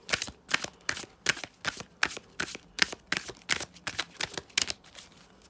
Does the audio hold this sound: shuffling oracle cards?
yes